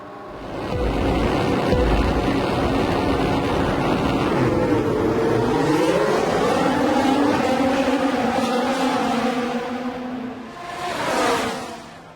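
Formula 1 cars launching at the start of the 2019 Italian Grand Prix, a loud, sustained roar of massed engines rising in pitch as the field accelerates away, followed by a brief renewed surge near the end.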